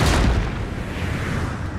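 A cannon shot in the Napoleonic-era battle game Total War: Napoleon lands as a loud, deep boom at the start and then rolls into a sustained low rumble of battlefield noise.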